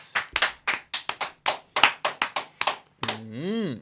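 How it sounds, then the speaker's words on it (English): Audience clapping for twin guests on a radio show, a dozen sharp separate claps in a brisk uneven rhythm, close and fairly loud, ending with a brief tonal whoosh-like sound effect. "Ladies and gentlemen, applause for the Naughty North Twins"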